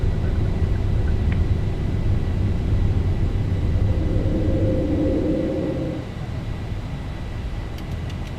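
Boeing 737NG in the X-Plane 12 video game, climbing after takeoff: a steady, loud, broadband jet engine roar and rumble that softens slightly near the end, with no talk.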